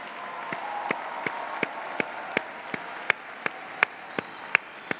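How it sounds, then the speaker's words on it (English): Graduation commencement audience applauds at a Northeastern University ceremony, a broad sustained wash of clapping from a large crowd, with a few sharper louder claps or thumps punctuating it at a steady rhythm. "Let's give them a big round of applause."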